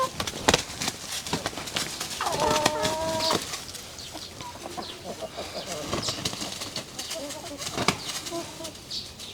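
Backyard roosters on an urban homestead scuffle, with sharp bursts of flapping wings and scattered clucks, fairly close, amid outdoor background noise and no talking.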